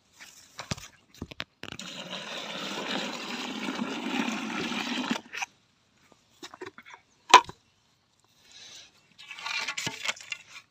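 Water pours into a gram flour slurry for a bacterial mix, making a few seconds of rushing splash between scattered clinks and bumps, then quiet and a brief later trickle.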